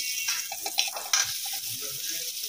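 Vegetables sizzle and crackle in Malaysian cooking butter in a home kitchen, a steady close hiss with a few sharp pops and stirring clatter.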